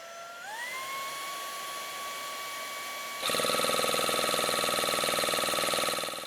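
A small portable tyre inflator motor, the Cycplus AL7, whines steadily, rising in pitch as it spins up, then turns louder and harsher with a buzzing, rattly drone that runs to the end.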